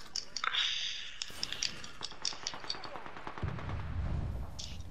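Gunfire in Apex Legends, a string of sharp, fairly close shots popping at an irregular rhythm, with a low rumble toward the end as players talk over it.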